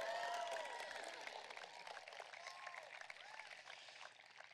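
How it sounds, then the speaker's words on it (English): Clapping from a high school commencement crowd as diplomas are about to be presented, fairly faint and distant, with scattered cheering voices over a steady wash of applause. "Yeah, we can clap."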